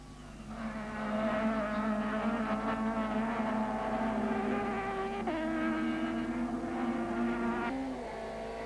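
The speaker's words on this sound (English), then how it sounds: "Race cam action from Class B leader Duncan Voss in the Accord Nissan Sentra" A Nissan Sentra Super Touring race car at Kyalami in 1995, recorded from the onboard camera: a loud, steady engine drone that holds high revs, with pitch steps at gear changes, and no talk.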